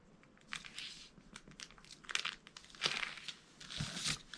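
A plastic sandwich bag crinkles and rustles in close, irregular bursts as it is folded and handled, with short sharp crackles and no talking.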